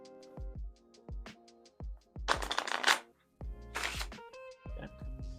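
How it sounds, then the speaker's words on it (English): A deck of playing cards is shuffled by hand during a close-up card trick, heard as two loud riffling bursts of about a second each amid sharp plucked tones. "You can shuffle it a little bit if you want"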